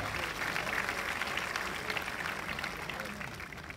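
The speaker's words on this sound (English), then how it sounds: "A big round of applause for our sir" A crowd applauds at a university event in Kolkata honouring the chancellor of Techno India, a steady wash of many hands clapping, moderately distant, holding level for several seconds before easing slightly.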